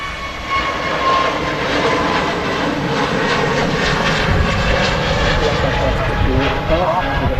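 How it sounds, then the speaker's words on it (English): A Kuwait Airways Airbus A320neo departing Manchester Airport, its jet engines roaring loud and steady with a continuous broadband rush and whine throughout. "Q8 A320 Neo departing"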